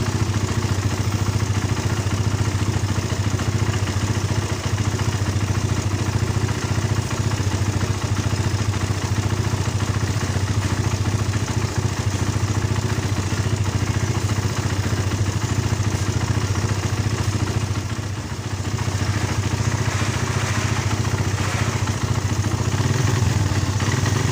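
A Suzuki Satria FU motorcycle engine runs on battery power after a carburetor service and new spark plug. It gives a steady, close mechanical idle with a low hum and light clatter that stays even throughout, dipping briefly near the end.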